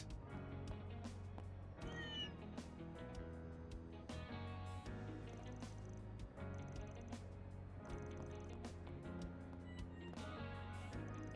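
A cat meows in the video game Trails Through Daybreak 2, a few short cries set within a steady, dense music soundtrack that plays throughout.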